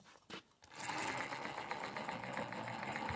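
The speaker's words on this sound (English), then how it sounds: "now I can actually turn the motor from the wheels" A garden railway steam locomotive's reassembled motor is turned by hand from the wheels, giving a rapid, steady mechanical chattering after a few brief knocks at the start, close and fairly quiet.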